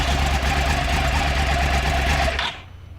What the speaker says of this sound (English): That's the new uneven firing interval cross-plane crankshaft.